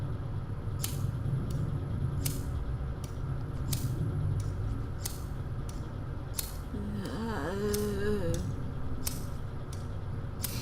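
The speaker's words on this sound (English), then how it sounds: "She was opening and closing the bloodied pair of scissors over and over again." Bloodied scissors in the horror game Corpse Party snip open and shut over and over, sharp metallic clicks in a steady rhythm above a low rumbling background, with a short warbling tone partway through.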